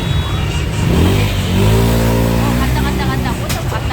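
Motorcycle and car engines revving in dense rush-hour Ho Chi Minh City street traffic, a steady close roar with rising and falling engine pitch, people talking over it.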